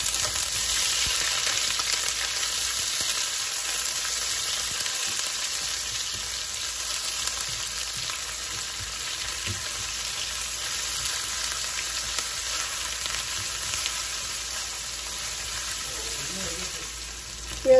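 Onions frying with lightly browned chicken pieces and garam masala in a pan, giving a steady, even sizzle that runs unbroken and close for the whole stretch, with a few faint stirring scrapes near the end.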